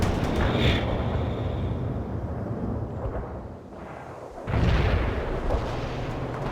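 Artillery fire in the World in Conflict video game, heavy booming blasts layered into a dense roar of battle, with a sharp renewed surge of explosive noise partway through.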